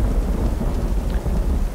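Rain and thunder in a desert cleft in the video game Uru Live, a loud, steady wash of rain with a low thunder rumble underneath.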